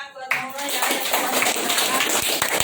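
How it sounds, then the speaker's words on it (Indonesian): A classroom audience applauds a student, a dense burst of clapping from many hands that begins abruptly after a brief voice and continues steadily. "Boleh beri aplaus tepuk tangan buat Naura ya"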